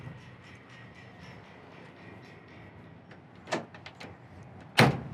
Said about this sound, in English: Doors open and close, beautiful, just like they should.